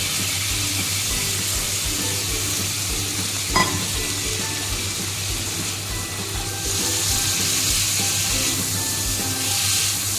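Fish and potatoes fry in hot oil for a Bengali singi fish curry, giving a steady, loud sizzle throughout with a brief clatter midway and no voices.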